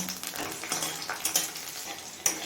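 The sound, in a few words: green chili frying in oil on low flame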